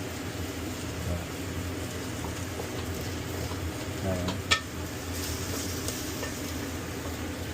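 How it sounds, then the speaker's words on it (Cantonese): Pieces of fish sizzle in a frying pan, cooked for a postpartum fish soup: a continuous close crackle with a brief clatter midway, steady throughout. "呢嚿魚咧未熟啊，要煎耐啲啊呢一嚿"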